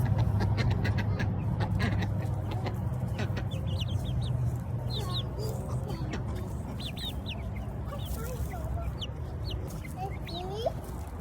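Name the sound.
chickens clucking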